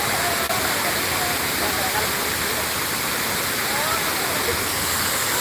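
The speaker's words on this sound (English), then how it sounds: "Oh, this waterfall is on though." A New York waterfall pours in a loud, unbroken rushing roar, and it fills the whole stretch evenly.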